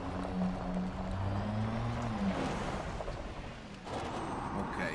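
Jet thrusters on a spaceship in Elite Dangerous: a steady roaring engine rumble with wavering tonal hums that shift pitch, then a sudden surge of rushing thrust near the end, with no talking.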